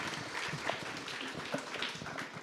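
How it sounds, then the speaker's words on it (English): Applause rises for a professor at an academic dialogue session, a steady wash of clapping from a seated audience lasting the whole moment, moderately loud and fairly distant, with no talk over it. "a round of applause for Prof."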